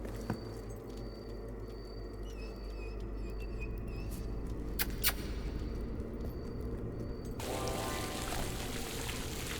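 Water in a fountain flows and splashes in the video game Fable 2, a steady rushing pour under game ambience with a few chirps and clicks, the water growing brighter and fuller near the end.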